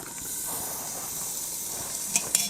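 Steak frying in a camp oven gives a steady, close hiss and sizzle, with a few sharp crackles and pops toward the end.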